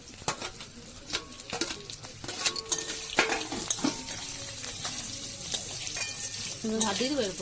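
Vegetables tipped into hot oil for fried rice, sizzling and frying steadily while a spatula stirs and scrapes the pan in quick bursts, close and fairly loud, with a voice heard briefly.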